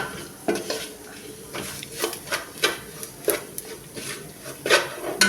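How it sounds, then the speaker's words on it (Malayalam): A spoon scrapes and clinks against a pan while turmeric is stirred into karimeen (pearl spot fish) mappas, giving close, irregular metallic knocks over a soft sizzle. "മഞ്ഞൾപ്പൊടി ചേർത്ത് നന്നായി ഇളക്കി കൊടുക്കാം."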